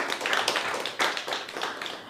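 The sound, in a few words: audience applause for a performer at an open mic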